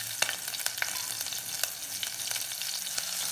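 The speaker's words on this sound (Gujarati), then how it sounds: "લીલા મરચાંને થોડા સાંકળી લઈશું" Green chilies sauté in hot oil with crackled mustard seeds and asafoetida over low heat, a steady close sizzle broken by several quick spoon scrapes.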